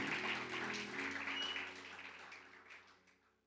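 Applause from a church congregation during a celebration service, a dense wash of clapping mixed with sustained musical tones, steady at first and then fading away.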